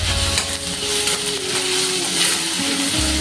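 Capsicum and onion fry together in a pan, giving a steady close sizzle with stirring and scraping throughout, plus a low background hum and no talking.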